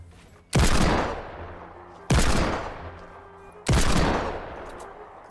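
Three loud, booming gunshots ring out in Fortnite, spaced about one and a half seconds apart, each with a long echoing decay.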